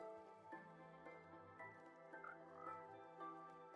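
Frogs croak in Minecraft, a soft run of repeated, slightly irregular croaks over a low ambient background, faint and with no speech.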